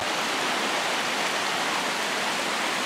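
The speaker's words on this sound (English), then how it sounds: "you're gonna pass a couple of little creeks on the way" A small creek pours over rocks along a hiking trail to a waterfall on Kauai, Hawaii, a loud, dense, steady rush that fills the whole stretch without pause.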